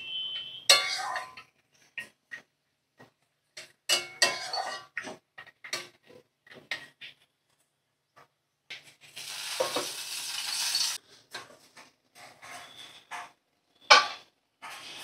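Spatula stirring spinach and beetroot in a frying pan, scattered scrapes and taps in irregular bursts with a stretch of soft sizzling, close and moderately quiet.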